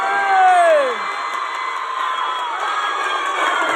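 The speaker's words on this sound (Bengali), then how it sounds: "জোরে একটা হাততালি দেওয়ার জন্য" A crowd at a public gathering with a minister and MLA present cheers and shouts, loud whoops and children's high yells rising at first, then settling into a continuous mass of voices.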